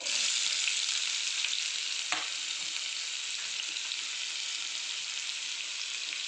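Onion sautéing over low heat in a cumin tempering, an even, hissing sizzle heard close and unbroken, with one brief stir.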